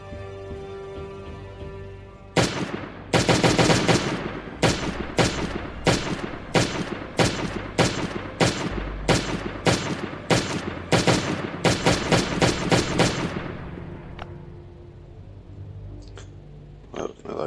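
M16 rifle fire in a first-person shooter game, a long run of sharp rapid shots in quick bursts lasting several seconds, loud and close, fading into quieter game ambience with a couple of faint later pops.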